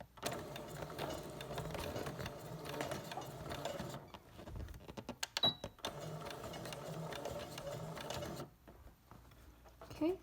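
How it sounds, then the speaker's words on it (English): A sewing machine stitches the stuffing opening of a restuffed throw pillow shut, its steady close whirring running in long stretches with brief pauses midway and near the end. "carefully and slowly sew this opening shut"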